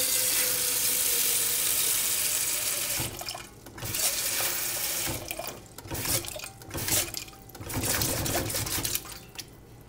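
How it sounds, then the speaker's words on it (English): Running tap water pouring into a small pot, a steady hiss at first, then splashing and gurgling as the stream shifts; close and continuous. "Begin by filling a small pot with water."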